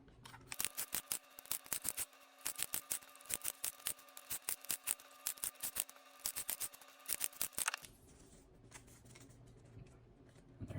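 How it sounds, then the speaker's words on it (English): Scissors snip rapidly through printed proxy playing cards, quick crisp rhythmic cuts in bursts for about eight seconds, then a quieter rustle of paper being handled, all close and unvoiced. "After you've gone through and you've cut all of your cards"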